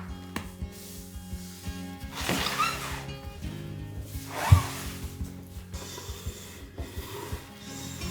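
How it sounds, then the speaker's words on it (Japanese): A carpenter shaves the wooden frame of an entryway step with a hand plane, giving repeated close rasping strokes with a heavier scrape midway. "上刃も合わせて削ります"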